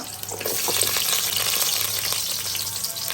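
Onion and garlic fry in oil in a pan for a Bombay duck curry with green chilies, giving a loud, close, unbroken sizzle with a faint low hum running underneath.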